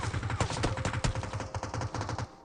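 Rapid bursts of gunfire crack out in a PUBG Mobile match where an AWM sniper rifle and an M4 are in play, many close, loud shots in quick succession before stopping abruptly.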